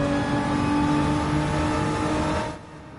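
Nissan GT-R race car in Gran Turismo 7 holding a loud, steady high-rev engine drone with strong harmonic whine through a high-speed turn, then dropping off sharply near the end.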